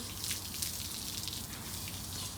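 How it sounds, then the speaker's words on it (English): Water running steadily from a hose nozzle onto a horse on a wash rack, a faint continuous spray and splash with no pauses. "I'm going to start the water near her shoulder and low"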